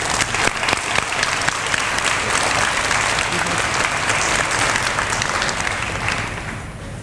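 A crowd at a 2017 high school senior awards program applauds the award recipients with thick, continuous clapping that holds steady for several seconds, then tapers off at the end.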